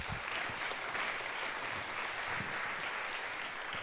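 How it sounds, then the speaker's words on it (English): Audience applause for a keynote speaker at the EARLI 2019 conference, a continuous, even roar of many hands clapping in a large hall, heard somewhat distant and without speech. "let's give a round of applause to Gavin Brown."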